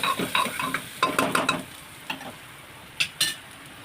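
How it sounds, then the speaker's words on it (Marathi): Ginger-garlic paste hits hot oil for a bitter gourd masala, with close sizzling and a quick run of stirring scrapes, then a quieter hiss broken by two sharp utensil clicks. "हे आला लसूणची पेस्ट घालायची छानपैकी तेलामध्ये परतून घ्यायचं"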